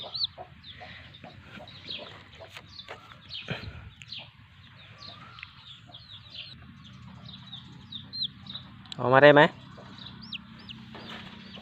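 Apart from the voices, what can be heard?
chick chirping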